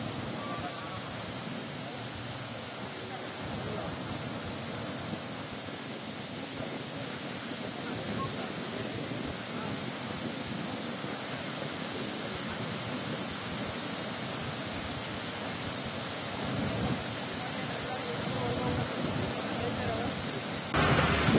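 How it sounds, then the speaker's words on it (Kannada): Heavy rain falls while the Narihalla stream, flooded by runoff from the Sandur forest hills in Ballari district, rushes past in a continuous broadband roar that holds steady throughout and swells slightly at the end. "ನಾರಿಹಳ್ಳ ತುಂಬಿ ಹರಿತಾ ಇದೆ."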